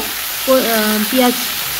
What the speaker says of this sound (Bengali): এবার কিছুটা সময়ের জন্য ভাজা ভাজা করে নেব